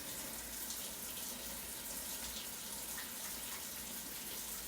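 Hands lathered with soap under a running kitchen tap, a steady continuous splash of water into a sink that carries through the whole stretch without talk.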